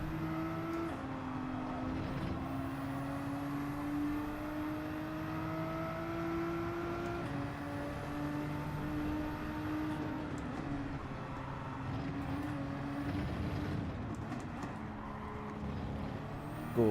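Race car engines in Gran Turismo 7 hum in a sustained, steady drone whose pitch rises and falls slowly over a long stretch. The sound is dense and even, with no talking.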